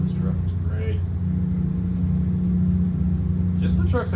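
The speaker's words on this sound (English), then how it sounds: "Love the sound of this truck." A heavy truck engine in the American Truck Simulator game drones steadily at highway cruise near 65 mph, a continuous low hum throughout with someone talking over it at the start and end.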